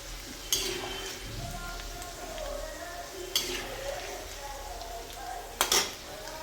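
Faint, steady frying of bean pods in hot oil for Gujarati undhiyu, a soft continuous sizzle broken by a few sharp clinks of a utensil against the pan.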